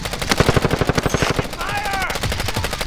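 Rapid automatic gunfire from the video game Call of Duty Warzone, loud and close, a fast rhythmic burst of shots that runs for about a second and a half, followed by further rattling sounds.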